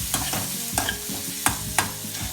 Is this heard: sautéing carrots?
yes